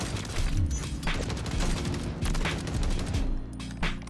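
Sustained rapid automatic gunfire from a recoil-tuned gun in Call of Duty MW3/Warzone, loud and continuous with dense repeated shots throughout.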